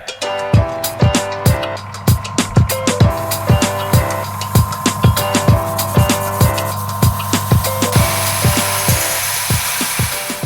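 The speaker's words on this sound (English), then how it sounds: "we're going to get cracking drilling the hole." A power drill with a hole saw grinds steadily through wood, with a rapid rhythmic rasp and a constant low motor hum, loud and close throughout.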